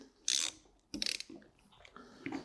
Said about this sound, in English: So what we're gonna do is crack all these bolts loose again.